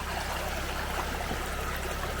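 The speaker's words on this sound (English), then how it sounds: "So I'm letting quite a bit of water into this area here." Pond water pouring through an opened drainage pipe into a low area beside a partly iced pond, a loud, continuous rushing trickle heard close up with no voices over it.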